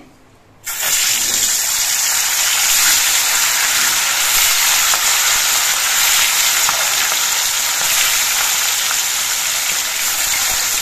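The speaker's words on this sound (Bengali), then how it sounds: "সর্ষের তেলটা বেশ ভালো মতো গরম হয়ে যাওয়ার পর প্রথমে আমি মাছগুলো ভেজে নিচ্ছি।" Ritha sea fish drop into hot mustard oil and set off a sudden loud, close hiss that settles into a steady, intense frying sizzle for the rest of the stretch, with no voices over it.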